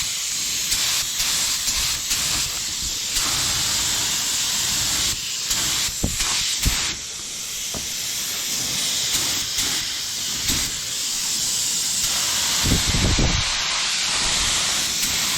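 Spray gun painting a golf cart in two-tone custom color, a steady loud hissing spray running through the whole stretch with brief pauses and bumps as the gun moves.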